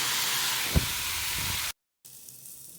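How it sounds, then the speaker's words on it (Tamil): Onion, green chili and tomato sauté in a pan with a steady, loud sizzling hiss for tuna fish curry, a brief spatula clink partway through, then the sound cuts out and returns more quietly. "இப்போ நான் வந்து தக்காளி ஆட் பண்ணி நல்லா வதக்கிக்கிறேன்"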